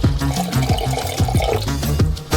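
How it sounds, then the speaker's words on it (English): About 200 milliliters of water poured into a saucepan holding 800 grams of sugar for candy making, a steady gurgling stream up close with bubbly splashing that carries on without a break, no voices. "Pour 200 milliliters of water in."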